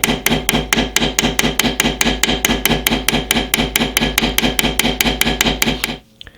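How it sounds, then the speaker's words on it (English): Rapid, steady metallic taps of a small hammer striking a pin on a Buck 110 knife, about five blows per second, close and crisp, stopping abruptly near the end. "I'm just going to try to hammer out the head of this little pin."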